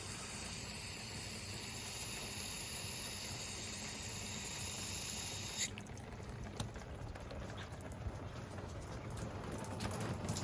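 Water sprayed over the roof of a barrel sauna patters steadily like rain, a constant close hiss of drops that shifts to a scattered, uneven drumming partway through, with no talking.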